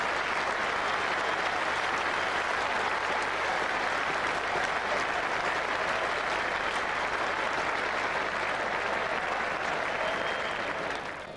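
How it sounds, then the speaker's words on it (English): A full-house cricket crowd at Trent Bridge keeps up dense, sustained applause, loud and even throughout before tapering slightly at the end, with no voices standing out over it. "everybody out there applauding."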